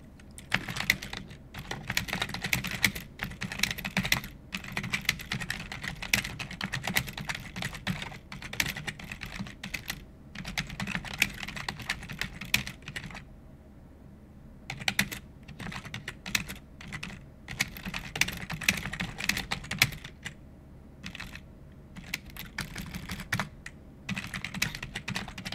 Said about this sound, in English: Let me type that in here.